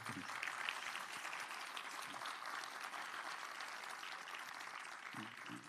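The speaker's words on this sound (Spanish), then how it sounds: "Primer aplauso." An audience claps steadily at a public ceremony of Chile's national forestry corporation, CONAF, in a cultural center theatre; the applause is faint and distant, holding an even patter for several seconds.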